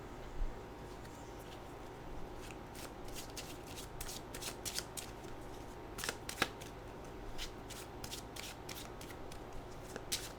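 Oracle cards being shuffled to draw an animal card: a run of soft, papery riffles and flicks that repeat through the whole stretch, fairly quiet and close, with no talking.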